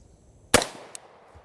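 One sharp AR-15 rifle gunshot at a range during scope zeroing, a loud close crack that decays quickly, followed by a faint brief click, with no talking.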